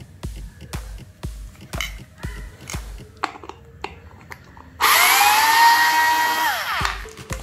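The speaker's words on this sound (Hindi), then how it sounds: "स्क्रू निकालना कंपैरेटिवली आसान होता है घुसाने से।" Bosch Go 3.6V cordless screwdriver backing a screw out on its third power level: a sustained whining motor burst of a couple of seconds follows a run of sharp clicks and taps, fairly close and loud.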